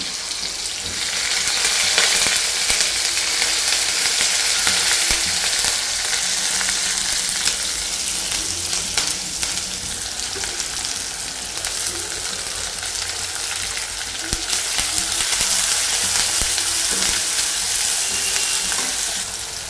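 Mustard seeds, cumin, chopped onion and curry leaves sizzle steadily in hot oil for a tempering, a dense crackling fry with stirring scrapes, loud and close with no talking.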